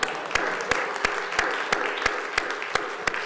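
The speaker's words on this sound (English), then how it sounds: "a big round of applause there" Applause from a conference audience, a short burst of clapping at moderate volume with distinct, evenly spaced sharp claps standing out over the softer wash.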